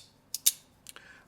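A folding knife is reverse flicked open: a few quick sharp metallic clicks and snaps, close and crisp in near silence.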